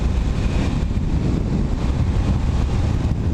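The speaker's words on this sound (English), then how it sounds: "Oh, it's so windy." Strong wind roars and buffets continuously across the microphone while riding a Yamaha SR400 motorcycle, with engine and road noise mixed underneath.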